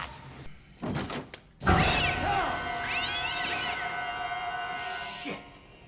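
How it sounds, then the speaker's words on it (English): A cat meows loudly in a horror film scene, a long drawn-out wavering cry rising out of sudden tense noise, heard close and alone over a low dark hum. "Cat!"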